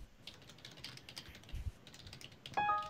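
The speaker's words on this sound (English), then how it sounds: "I'm typing on my keyboard" Light tapping of keys on a computer keyboard at a desk, soft and irregular, with a few louder clicks and a brief electronic tone near the end.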